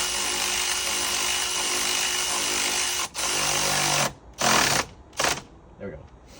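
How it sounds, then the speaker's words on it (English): A power tool whirs steadily on an E36 318ti supercharger kit, then gives way to short bursts of tightening on a bolt, close and loud, with a brief pause between. "I'm going to tighten it down with the ratchet"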